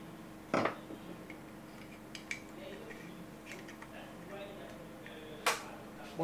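An engine oil sump is refitted, giving two sharp metallic clanks several seconds apart with small taps and clicks between them and a faint voice in the background.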